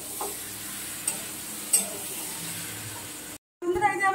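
Potato and pointed gourd curry being stirred and fried in a pan, a steady close sizzle with a few scraping stirs, cutting off briefly near the end before a louder burst of sizzling and clatter.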